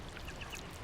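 A bird calls in the game What Remains of Edith Finch, giving faint, high, quacking chirps that repeat several times over a dense, noisy ambient bed.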